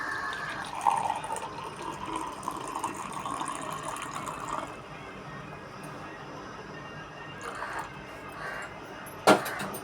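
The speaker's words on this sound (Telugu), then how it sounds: "హాట్ వాటర్ వేసుకోవాలండి" Hot water poured into a container in a home kitchen during a morning routine, a steady moderate liquid rush that continues for several seconds, with a brief sharper splash near the end.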